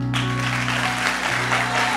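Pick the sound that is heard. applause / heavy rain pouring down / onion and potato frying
applause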